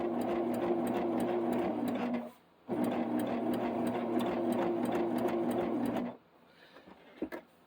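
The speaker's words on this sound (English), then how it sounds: "I want to show you how I do this on basically a domestic sewing machine" A domestic sewing machine stitches steadily in two long runs with a brief pause between, its motor humming under a fast, regular needle clatter, then stops.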